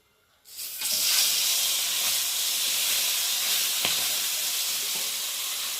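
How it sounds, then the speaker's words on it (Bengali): Small fish drop onto a hot tawa and burst into a loud, sustained sizzle and hiss that starts suddenly after a moment of quiet and holds steady close by. "তাওয়ার মধ্যে আমি একে একে মাছগুলোকে দিয়ে ভেজে নেবো"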